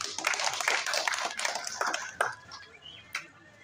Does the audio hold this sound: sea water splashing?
no